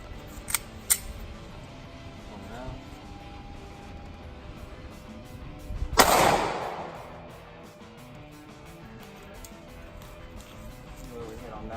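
A single 9mm shot from a Glock 43 fired into a student's backpack, one sharp loud crack with a decaying outdoor echo, preceded by a couple of light clicks, with talk around it.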